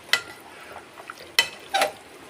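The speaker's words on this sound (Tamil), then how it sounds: "நல்லா மத்து வச்சு நல்லா கடைஞ்சிடலாம்" A wooden churner (mathu) mashes sorrel greens and brinjal in a pot, giving three distinct sharp scraping knocks spaced apart, with faint softer stirring sounds between them.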